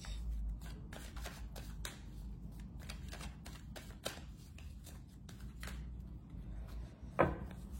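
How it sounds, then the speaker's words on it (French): A deck of tarot cards being shuffled and cut by hand, with repeated soft riffling flutters and light taps, close and quiet, ending in a sharper clack. "On va faire une petite coupe."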